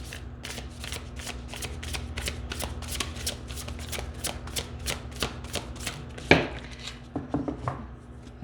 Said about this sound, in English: I'm going to pull a universe card to see what message is coming out for you